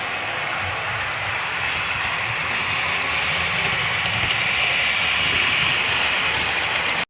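Model railway train running on a scratch- and kit-built layout, a steady continuous rolling rumble with light rattling, fairly close and unbroken throughout.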